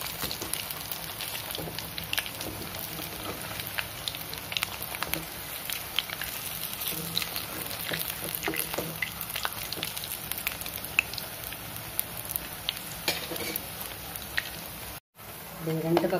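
Urad dal vada frying in hot oil, a steady dense sizzle and crackle throughout, close and even, with a short dropout near the end.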